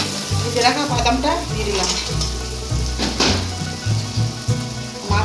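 Fish head and leafy greens sauté in a pan with a busy, steady sizzle and crackle and occasional stirring scrapes, loud and close, while a voice speaks briefly over low background music.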